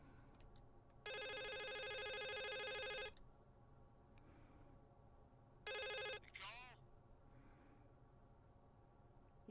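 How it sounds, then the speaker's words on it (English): A telephone rings inside the video game The Suicide of Rachel Foster: two long, bright electronic ring bursts separated by a pause, with faint room tone between them. "Answer the phone."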